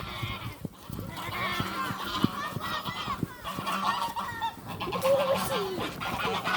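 Turkeys call noisily close by, a chorus of gobbling cries with wavering pitch, continuous over a busy farmyard background.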